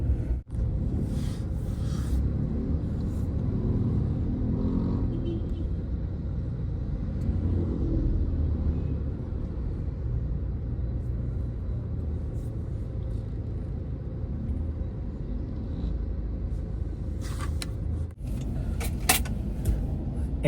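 A car driving through mid-afternoon traffic in Las Piñas, with a steady low engine and road rumble throughout, no talk, and a brief mechanical whir near the end.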